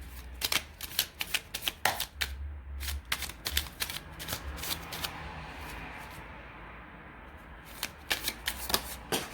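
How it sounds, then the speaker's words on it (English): Tarot cards being shuffled by hand, a rapid series of crisp riffling bursts and soft slaps, close and clear with a short lull in the middle. "So I'm gonna shuffle on camera."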